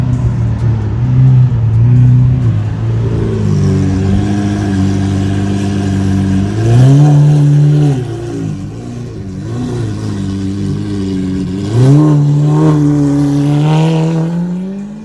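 Loud Lamborghini Aventador Super Veloce engine revving close by, a sustained roar that climbs and falls in repeated surges, with no talking.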